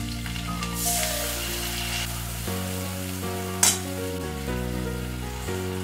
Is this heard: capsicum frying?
yes